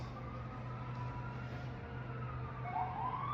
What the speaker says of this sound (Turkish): 3 tane itfaiye. 2 tane ambulans.